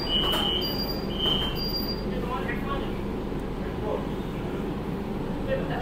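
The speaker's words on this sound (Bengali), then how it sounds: "ট্রেন এখন আমাদের ছেড়ে দিচ্ছে হেমন্ত মুখোপাধ্যায় রেলওয়ে স্টেশন দিয়ে বা রুবি থেকে" An Orange Line metro train in Kolkata pulls out of a station, with a steady rumbling ride, high wheel squeals and short tones near the start, and faint voices in the background.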